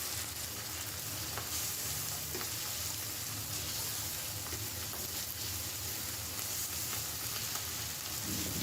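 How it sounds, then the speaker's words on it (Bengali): Liver sizzles steadily in a pan with black pepper, garlic paste, ginger paste and salt, a dense, even frying hiss that runs unbroken throughout, close and moderately loud, with no voices. "কিছুক্ষণ ভালো করে নেড়ে চেড়ে ভেজে নেব"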